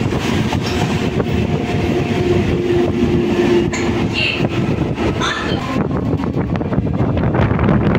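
The 12074 Bhubaneswar–Howrah Jan Shatabdi Express rushes past close by, a loud continuous roar of wheels and wagons with wind buffeting the microphone throughout.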